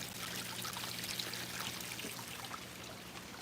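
Water pours steadily into a goldfish tank, a soft continuous trickle and splash, fairly faint and unbroken for a few seconds.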